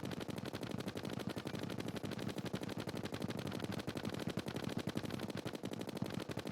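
Rapid automatic gunfire from the video game Terraria, a fast unbroken stream of sharp shots at steady volume with no voices.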